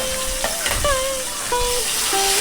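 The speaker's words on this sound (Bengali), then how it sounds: "আলু কড়াইশুঁটি তেলের মধ্যে নাড়াচাড়া করে নিয়ে" Fried potato pieces and shelled peas are stirred in hot oil in a pan, giving a moderate sizzle with scraping and a few squeaky tonal scrapes from the spoon.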